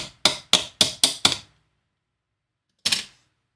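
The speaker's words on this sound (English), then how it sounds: "tap it in place" A round pin tapped into place on a Fanhome Optimus Prime model with a small hammer: six quick sharp taps in a steady rhythm, a pause, then one final tap, close and crisp with nothing else heard.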